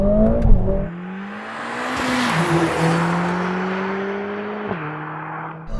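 Heard from inside the cabin, a Mercedes-AMG A45 S hot hatch engine pulls hard, its note climbing steadily through the revs, with a couple of quick gear changes that briefly dip the pitch before it surges again.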